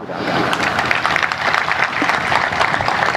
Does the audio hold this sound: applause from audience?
yes